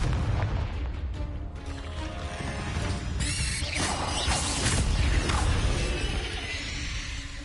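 The Confringo blasting spell from Hogwarts Legacy on PS5 goes off as a dense wash of booming explosions and crashing debris, loud and continuous over game noise.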